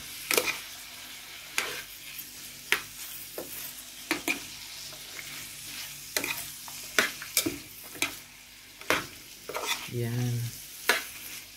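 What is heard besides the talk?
stir-frying vegetables for bihon guisado in a pan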